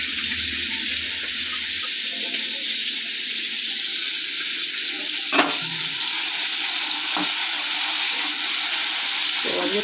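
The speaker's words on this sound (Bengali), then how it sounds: "এবারে আমি চিংড়ি মাছগুলো দিয়ে দিই।" Prawns fry in a pan with a constant loud sizzle and bubbling, broken by a couple of sharp clinks of a utensil against the pan.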